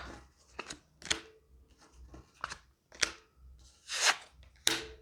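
Cards are shuffled in quick, crisp riffles and snaps, several bursts close by with brief pauses between.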